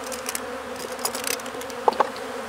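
Honey bees drone in a weak, failing hive during an open inspection, a steady low buzz with a few faint clicks and taps of frames handled nearby.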